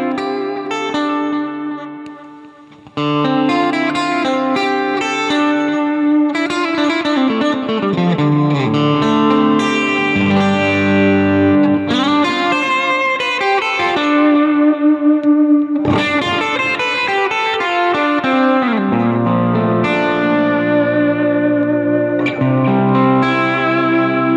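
Electric guitar played through a clean reverb setting with a boost pedal, sustained chords and melodic lines ringing out loud and close with long reverberant tails, a brief pause early on, no talk.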